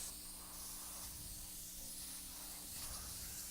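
A steady, soft hiss of an airbrush spraying blue paint runs continuously for a few seconds, fairly quiet and even, with no talking.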